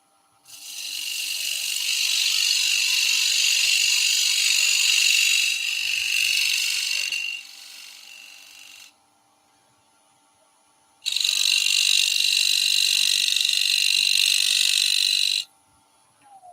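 Skew chisel cutting a dovetailed angle into the inside surface of a woodturning on a lathe, two sustained loud bright scraping-cutting passes separated by a quiet pause, with no voice.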